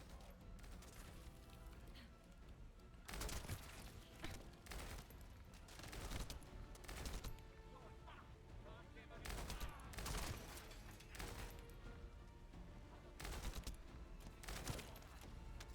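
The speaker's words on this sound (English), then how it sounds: "It's a little battle rifle, everybody." Rapid bursts of battle rifle fire in a video game come in repeated clusters across the clip, loud and close, over a steady din of game noise and music.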